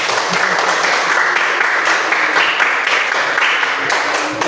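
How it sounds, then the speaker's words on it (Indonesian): Classroom applause for a teacher during a lesson, a loud, sustained burst of many hands clapping together, close and steady throughout, with no speech over it. "Tepuk tangan dong buat Ibu."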